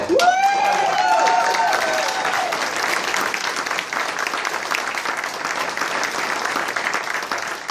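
A town hall audience breaks into loud, sustained applause that swells at the start, with a few whoops, then settles into steady clapping for several seconds.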